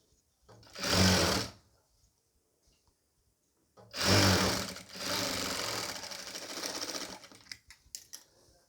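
Electric sewing machine stitching nighty fabric in short runs: a brief burst of rapid whirring, a pause, then a longer run that stutters into a few quick stops at the end.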